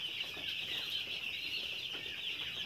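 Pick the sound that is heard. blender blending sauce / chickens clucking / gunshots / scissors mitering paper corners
chickens clucking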